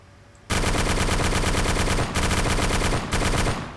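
Rapid automatic gunfire from a tank turret in Arma II, loud and close, erupting after a brief quiet lead-in and continuing in three long sustained bursts separated by short pauses.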